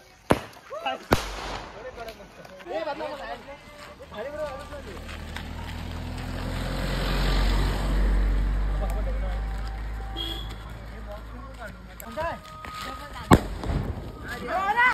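Firecrackers go off during a Diwali celebration in a village: sharp nearby bangs, crackling bursts and a rumbling rush, while boys shout and talk excitedly over the noise.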